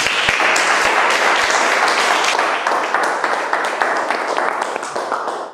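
Sustained applause from a seated-then-standing audience at an indoor business seminar, dense and even clapping that holds steady throughout before tapering slightly at the end, with a few low thumps early on.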